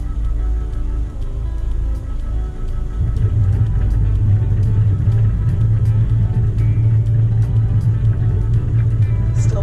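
A boat's engine throttled into port reverse, giving a loud, steady low rumble that deepens and strengthens partway through and then holds constant.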